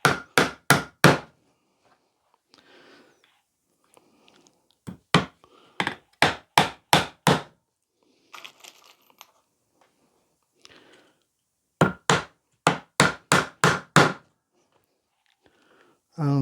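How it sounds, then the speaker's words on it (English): Nails, 30mm long, are hammered into pallet-wood planks of a planter in bursts of four or five sharp, loud, evenly spaced strikes, separated by pauses with quiet handling noise and faint talk. "But I am nailing this basically from the inside, or what will be the inside."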